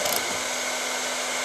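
A steady, loud whooshing roar of a heat gun warming a TaylorMade Stealth 2 fairway wood head to loosen the glue, continuous with a faint constant tone and no talk.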